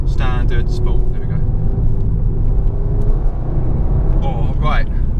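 An Audi TT RS in sport mode with its exhaust valves open gives a loud, steady engine rumble from inside the car while driving, with brief voice-like sounds near the start and end.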